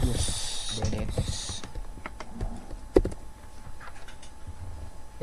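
A computer keyboard clicks under light typing of a command, close and brief, alongside a steady background hum.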